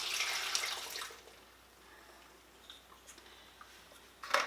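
Apple cider, two cups of it, is poured over the top of apples for a sweet cider apple butter: a soft, brief splash in the first second, then near quiet with a few faint ticks and a small clatter at the end.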